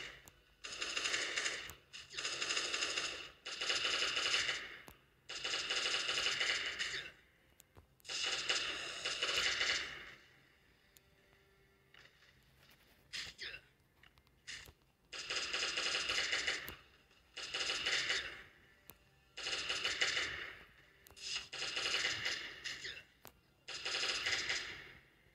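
Bursts of rapid automatic gunfire in the zombie survival game Last Day on Earth, in repeated volleys of a few seconds each with short pauses between them, loud and close.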